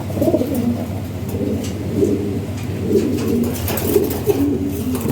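Several fancy pigeons of European Lahori breed coo in overlapping, rolling phrases, close and steady, with faint chirps above.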